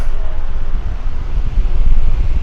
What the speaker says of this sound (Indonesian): Mungkin ini yang disebut dengan kipas angin tornado ya.